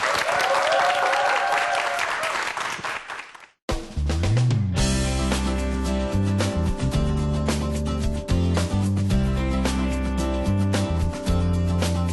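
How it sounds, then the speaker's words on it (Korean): A studio audience on a Korean television show applauds to welcome a guest, chief executive Kim Dong-geun. The clapping is dense and loud for about three seconds, cuts off briefly, and then loud music with a heavy beat takes over for the rest. "큰 박수로 환영해 주세요."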